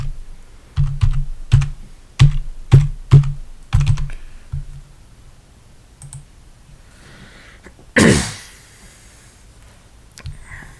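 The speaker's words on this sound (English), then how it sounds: "Since my admin is already there, I can just go in and just type in my password." Fingers tap out a password on a computer keyboard, a quick run of distinct close keystroke clicks followed by a pause, one louder key press and a final soft click.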